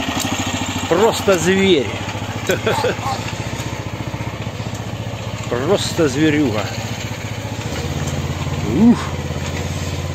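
A mini tractor's engine idles steadily outdoors in winter, a constant low, even chug throughout, with someone talking in short exclamations over it.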